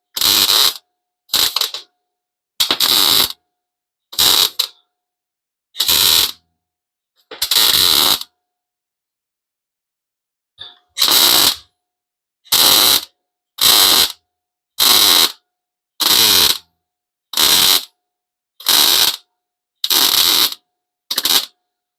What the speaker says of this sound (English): Welding, welding, welding.